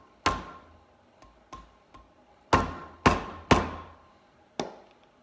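A bearing race is tapped into a 1971 VW Super Beetle hub with about eight sharp metallic knocks, some light and some heavy, spaced irregularly and close by.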